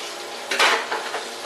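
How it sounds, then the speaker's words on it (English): Hot fat from frying burgers sizzles and crackles in a frying pan, with a brief scrape of a utensil against the pan, close and fairly loud. "that fat is going to continue to sizzle in the pan"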